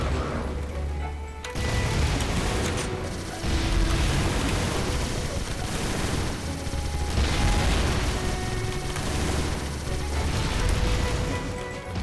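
Machine gun fire in the platformer I Wanna Be The Justice Guy, dense rattling bursts with booming impacts and mechanical clatter, loud and continuous in several stretches.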